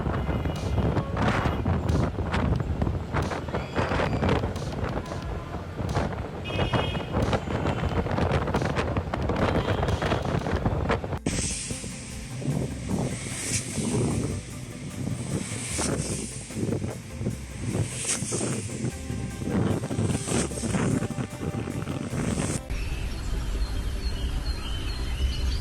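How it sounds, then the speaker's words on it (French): Strong wind roars and buffets continuously over the city of Coimbatore, India, a loud broadband rush with gusty surges, plus some faint background activity throughout. "Vent fort dans la ville de Coimbatore en Inde le 4 mai."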